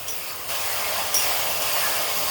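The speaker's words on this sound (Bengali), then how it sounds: "ডালটাকে এভাবে ভুনে, অর্থাৎ মশলার সাথে এভাবে নেড়ে নেড়ে মিশিয়ে নিলাম" Soaked lentils fry with onion, garlic and spices in a pan, giving a steady bright sizzling hiss with small bumps as the mixture is stirred.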